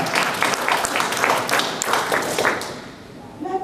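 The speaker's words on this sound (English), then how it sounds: "Give him a round of applause." Audience applause at a talk on Haiti's recovery in 2012, dense clapping filling the room before fading near the end, with some voices mixed in.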